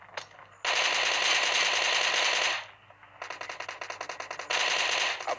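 Automatic gunfire in a shooter video game tournament match: two long sustained bursts with a rapid staccato stretch between them, loud and close, with no talk.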